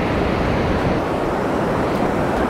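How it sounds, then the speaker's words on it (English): Ocean waves during a thunderstorm while fishing, a loud, steady broadband wash of surf and wind roar that fills the whole clip without a break. "Not that these are super strong waves, but it's definitely not completely calm."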